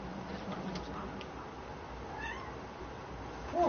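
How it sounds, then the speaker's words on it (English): A cat meows in a thin, drawn-out cry, close but fairly faint over low background noise, with a louder burst at the end. "Oh, Kitty, you're crying."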